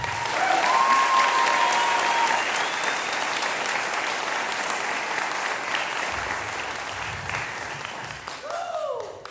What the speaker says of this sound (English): How about a round of applause for these kids?